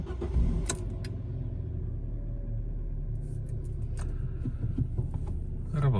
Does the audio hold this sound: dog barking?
no